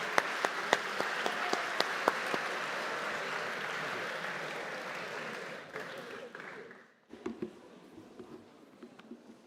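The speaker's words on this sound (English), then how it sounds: "Give him a round of applause." Applause from an audience at a university welcome event for new students in Madrid, greeting the head of admissions; steady dense clapping for about seven seconds, then it fades and a few scattered claps and low voices remain.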